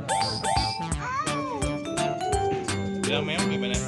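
A cat meowing in a family restaurant at South City Pondok Cabe, heard in short cries amid a busy mix of voices, children and clinking background noise.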